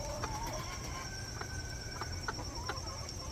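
Backyard chickens, including an old hen among laying hens and growing turkeys, cluck softly in a coop, several short close clucks over steady farmyard hum with no talk.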